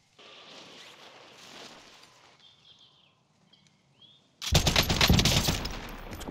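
Gunfire in a Warzone match: a burst of rapid automatic shots erupts loudly and continues over two seconds after quieter ambient game sounds.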